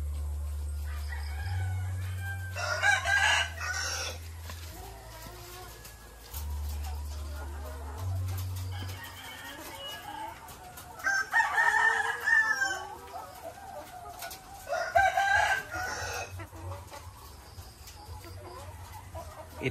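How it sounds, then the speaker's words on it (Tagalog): Layer chickens remaining in a poultry layer building, rooster crowing and clucking repeating in bursts at moderate distance over a low electrical hum. "Ito na lang po yung mga natira sa ating mga manok dito sa layer building number 2"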